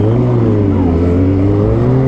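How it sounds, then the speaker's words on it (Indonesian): A Kawasaki ZX-25R four-cylinder motorcycle engine runs close and loud with a steady, high-pitched harmonic drone, its pitch rising slightly as the revs build, continuous and alone. "motor ZX 25R ini suaranya menurut gua sangat merdu banget"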